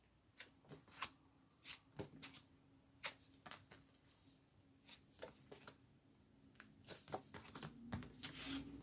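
Tarot cards are shuffled and drawn in a quiet room, making soft, irregular slaps and riffles with brief pauses between them.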